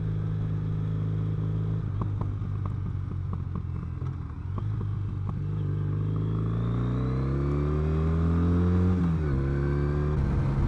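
Triumph Brooklands Bonneville café racer motorcycle on the move, a loud close engine drone that dips through a few gear shifts then rises steadily under acceleration.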